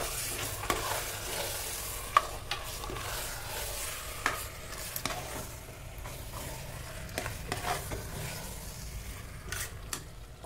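Marinated chicken being stirred and mixed together in a pot for Indian chicken dum biryani, a steady scraping and stirring texture with soft sizzle and occasional sharp clinks of the spoon, continuous and close, with no talking.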